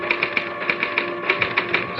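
Typewriter keys struck in an irregular run of crisp clicks inside a radio mystery drama, with a steady low hum underneath and no voices.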